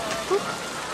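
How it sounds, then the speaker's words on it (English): Rain falls in a steady wash of hiss from a scene in the 1998 Godzilla film, with a faint voice briefly rising above it. "The rain probably doesn't help with that."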